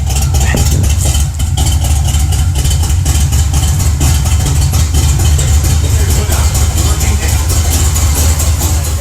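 A 1981 Chevrolet Camaro street/strip project car's V8 engine idles roughly and loudly, steady throughout, with a needy carburetor and poorly sealed intake giving a constant rumbling drone.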